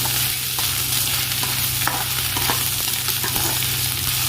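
Onion, ginger and garlic fry in hot oil in a pan, a steady close sizzle with occasional stirring scrapes and soft pops running throughout, no voices.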